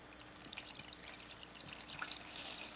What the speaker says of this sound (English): I'm going to take this vessel, I'm going to pour a lot of it in here.